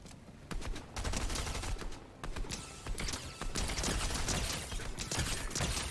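Rapid bursts of gunfire from a weapon in the video game Fortnite crackle steadily throughout, dense and loud, with no talking.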